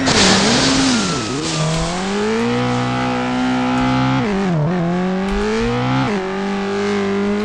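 A turbo-boosted water scooter engine in the racing game Riptide GP 2 drones loud and close, its pitch dipping and surging repeatedly as the throttle rises and falls, with no talk.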